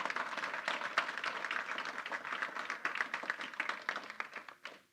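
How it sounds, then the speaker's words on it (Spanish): A church congregation claps together in a brisk, ragged burst lasting several seconds, then fades out toward the end; the sound is moderately distant and reverberant. "¿Le podemos dar un aplauso al Señor por su cuidado?"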